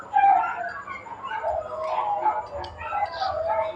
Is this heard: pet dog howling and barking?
yes